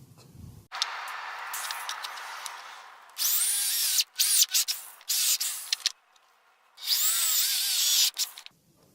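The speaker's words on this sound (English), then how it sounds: "so I will use this kind of drill bit" A power drill whines in several bursts, bit grinding through material, loud and close, with short pauses between runs, drilling holes for a homemade feather burner.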